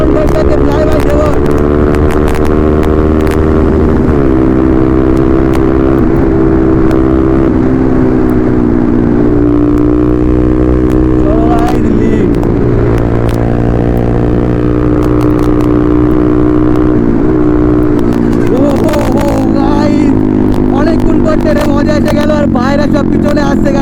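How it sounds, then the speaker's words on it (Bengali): Motorcycles including a Hornet and an Apache roar past on a road in a fly-by, with loud, continuous engine drone and rising and falling revs close to the microphone. A voice talks over the engines at times. "চলো ওই আরাম বাইকটাকে ফ্লাই বাই দেবো"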